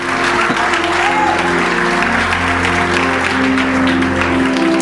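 A church congregation at a Sunday evening service applauds, a dense, continuous wash of many hands clapping at full volume, with sustained music tones underneath.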